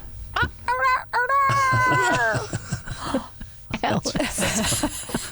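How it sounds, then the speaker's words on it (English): A hoarse, strained rooster-like crow rises and wavers for about a second, followed by laughter and lively chatter from several people close by. "That was a sick rooster."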